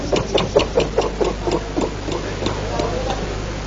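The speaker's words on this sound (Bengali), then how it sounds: "সেই ইঞ্জিনের চালক ওটাকে স্টার্ট দিচ্ছিল। শুনুন সেই ইঞ্জিনের শব্দটি।" A riverboat engine being cranked and misfiring, a run of rhythmic close knocks and chugs that sputters without catching, over a low steady hum.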